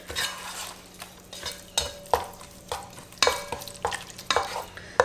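A spoon stirs cold milk into a flour mixture in a pan for tuna pasties, giving a run of scraping, clinking strokes with a faint sizzle underneath, close and fairly loud.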